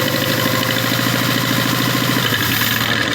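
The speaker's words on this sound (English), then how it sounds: "You can hear the exhaust pushing out more." A car engine runs steadily close by, its exhaust throbbing in a fast, even pulse at raised revs.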